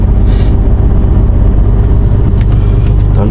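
A truck drives over to couple up a three-axle trailer, its engine a loud, close, continuous low rumble with no voices.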